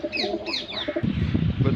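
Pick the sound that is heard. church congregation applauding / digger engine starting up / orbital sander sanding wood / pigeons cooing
pigeons cooing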